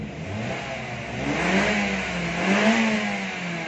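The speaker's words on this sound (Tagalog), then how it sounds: "Ang ganda ng response ng makina." A Ford Escape engine revs up under acceleration after a computer box replacement, a steady rising-and-falling mechanical drone close by, alone without talk for several seconds.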